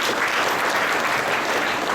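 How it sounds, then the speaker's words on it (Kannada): Steady, dense applause from an audience at a family-day gathering of an alcohol de-addiction camp, sustained and loud throughout. "ಓ ವೆರಿ ಗುಡ್. ಚಪ್ಪಾಳೆ ಹೊಡೆದು."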